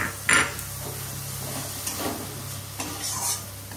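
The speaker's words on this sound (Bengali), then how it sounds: "এখানে মশলাটা কষানো হচ্ছে, একদম সাদা মাথা করছি" Spice paste for ridge gourd and potato posto fries in a pan, a soft continuous sizzle punctuated by several spatula scrapes and taps against the metal.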